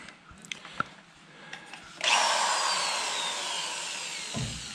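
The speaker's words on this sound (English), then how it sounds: "So we're drilling out the rivets" A power drill bores out rivets on the running board brace of a 1928–29 Ford Model A. It starts with a few faint knocks and then whines continuously and loudly for several seconds at close range.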